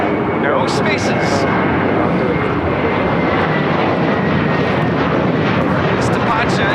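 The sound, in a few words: Boeing 757-200 jet taking off at LAX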